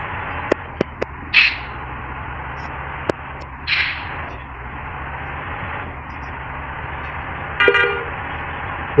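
A bus horn sounds in a bus driving video game, with three short honks spread over a steady engine drone, along with a few sharp clicks.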